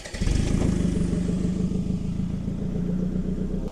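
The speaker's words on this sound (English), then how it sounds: "a motorcycle starts up with the usual Kickstarter movement from childhood" A motorcycle fitted with a Toyota Camry engine is kickstarted and fires up right away, then runs at a loud, steady, throbbing idle close by.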